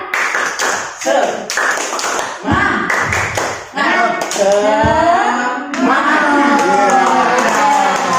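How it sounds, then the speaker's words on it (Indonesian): An audience at a school event at SMAN 1 Dringu performs the rhythmic tepuk semangat spirit clap, patterned bursts of hand claps in sequence, with chanted voices and talk woven through. "Tepuk semangat."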